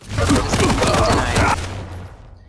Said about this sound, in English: He's stuck on machine gun this whole time.